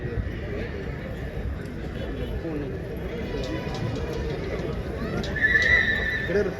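A foal whinnies in a show ring at the Hanumangarh fair amid a steady background of crowd chatter and babble, with a sharper, higher call rising near the end.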